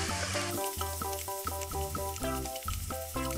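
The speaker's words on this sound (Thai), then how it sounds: "จากนั้นนะคะก็ผัดจนกว่าเครื่องปรุงรสทั้งหมดเนี่ยจะละลายเข้ากันดีค่ะ" Pork balls stir-fried with curry paste, sugar, oyster sauce and fish sauce, giving a steady, close sizzle broken by repeated scraping and clanking stirs in the pan, with no voices.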